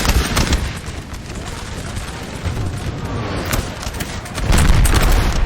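Massed musket volleys in the Napoleon Total War video game on a winter battlefield at Austerlitz, rolling crackling fusillades and booming reports layered densely, swelling louder toward the end.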